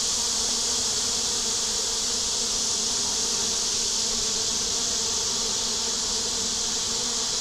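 A thick, unbroken drone of honey bees swarming in and around a crowded hive on a hot day, close and steady for the whole stretch.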